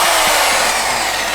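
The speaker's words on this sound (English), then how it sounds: "I'm going to quickly drill these now, and resin fix these down with some threaded bar" A power drill bores holes for resin-fixed threaded bar at a scrap yard entrance, a loud close continuous whining hiss that holds steady throughout, with no talk.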